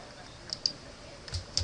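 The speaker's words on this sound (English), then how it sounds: "And you just keep on typing" A computer keyboard being typed on to enter a comment, heard as a few faint, sparse key clicks spaced irregularly over a quiet background.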